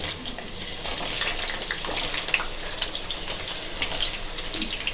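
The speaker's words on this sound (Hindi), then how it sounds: "1 by 1 सारे के सारे जितने भी हम लिए हैं वेजिटेबल्स सबको तलकर निकाल लेंगे" Carrots and other vegetables fry in hot oil for a Hyderabadi vegetable pickle, a steady, close crackling sizzle with small popping bursts throughout and no talking.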